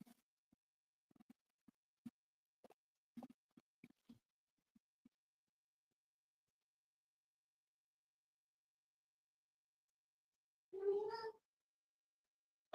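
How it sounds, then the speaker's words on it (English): A pet cat called Rocket Kitty lets out a single faint meow near the end, after long near-silence broken only by a few soft, tiny clicks. "that's Rocket Kitty giving us her 5 cents"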